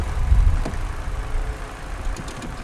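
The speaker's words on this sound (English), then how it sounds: "I'll leave it running a bit longer." A car engine idles with a low, steady rumble and slight uneven knocking, close by and alone.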